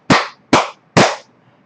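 Three sharp, loud hand claps at an even, unhurried pace, keeping time with a song during a seated exercise session for seniors, with a short quiet gap after each clap.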